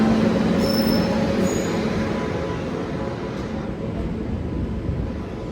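A train rumbles steadily at a platform, a low continuous roar with faint brakes or wheel tones fading gradually as it slows.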